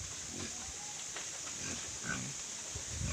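Native pigs grunt softly while being fed on a rural farm, the low snorts scattered and faint beneath a steady background hiss.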